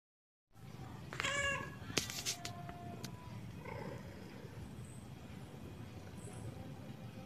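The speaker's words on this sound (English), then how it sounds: "Tammy is a funny cat for me and my family." A pet cat meows close by in a couple of short calls, followed by quieter trailing sounds over steady low background noise, with no one speaking.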